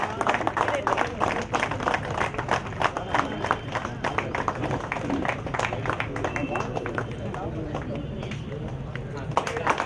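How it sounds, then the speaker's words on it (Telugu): Group clapping at a get-together, a fast run of sharp handclaps that carries on throughout, with voices calling out over and between the claps. "క్లాప్స్ గట్టిగా రావాలా ప్లీజ్"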